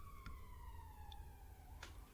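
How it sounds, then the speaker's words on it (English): Police sirens sound faintly in the far background, a thin wailing tone sliding slowly downward in pitch, with a couple of brief soft clicks and no talking. "I think there were police sirens going off in the background."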